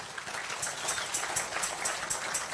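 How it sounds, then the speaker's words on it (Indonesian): At a church service, a congregation claps for Jesus in a steady, rhythmic patter of hand claps, moderately distant and filling the room. "Tepuk tangan buat Tuhan Yesus."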